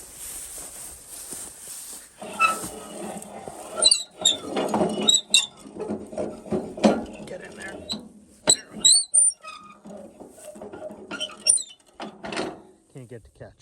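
The crank of old 1923 International farm equipment turns with squeaky, creaking metal mechanism sounds and irregular clicks, close by, over outdoor background noise.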